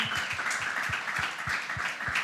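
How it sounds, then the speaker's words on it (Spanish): A congregation at a church general meeting applauds, a dense, sustained wash of clapping from many people with a rhythmic low thump underneath, steady and fairly loud throughout. "Denle un aplauso a Dios, por favor."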